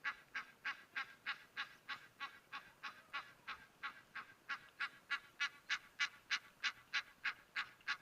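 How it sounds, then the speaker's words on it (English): An Egyptian goose at a waterhole honks over and over in a steady, rhythmic series of about two dozen nasal calls, loud and close, with no pauses between bursts. "I would love to know what conversations this Egyptian goose is having that it has to keep chatting all"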